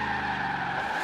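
A 1950s-era Chevrolet Bel Air slides through a corner in Forza Horizon 3, its tires squealing in a steady sustained skid over the engine drone for about a second, loud and close.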